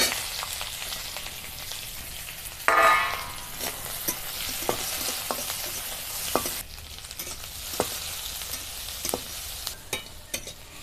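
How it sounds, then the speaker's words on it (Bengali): Chopped onion and garlic frying in a pan, a continuous sizzle that surges loudly as they go in, then carries on with repeated scraping stirs and clinks, and no one talking. "পেঁয়াজ আর রসুনটাকে একটু হালকা করে ভেজে নিয়েছি"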